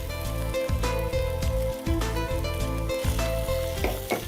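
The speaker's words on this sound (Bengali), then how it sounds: "আপু এখন স্ক্র্যাম্বল করে নিচ্ছেন স্ক্র্যাম্বল এগ" Eggs scrambled in a hot pan for mixed fried rice give a steady, loud sizzle with a rhythmic repeated scraping and stirring pattern throughout, with no voices.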